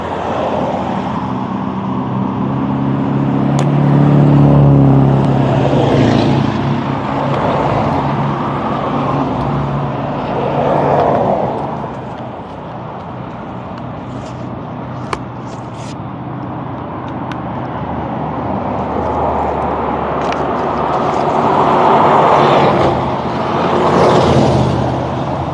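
Cars, buses and trucks roll past at a set of traffic lights in Salem, a steady wash of mid-level road noise with engines swelling and fading as vehicles move through, no voices over it.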